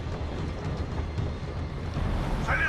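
A moving train in the Resistance 3 video game, a steady low rumble of rail noise with wind that carries on throughout, loud and continuous.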